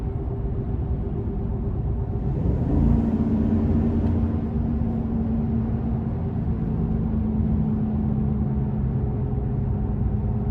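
Inside a 2022 Chevy Silverado 1500 Trail Boss with the 6.2 liter V8, a steady low engine rumble and drone while driving, with one brief rise in pitch, no talk.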